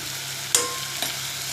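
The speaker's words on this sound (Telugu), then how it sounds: "ఉప్పు, కారం కూడా వేసుకొని ఫ్రై చేద్దామండి" Raw prawns fry in a pan with salt and chilli powder for a brinjal gravy, giving a steady close sizzle with two sharp stirring scrapes and no voices.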